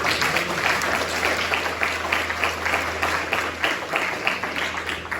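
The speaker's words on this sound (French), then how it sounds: "Acclame le Seigneur Jésus" A church congregation applauds together, a steady, full burst of clapping with rhythmic pulses lasting around five seconds, with no clear talking over it.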